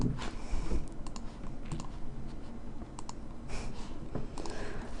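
Rapid clicking while choosing random armor colours in the Guild Wars 2 character creator, a close, irregular run of sharp clicks, sometimes in quick pairs, over a quiet background hum.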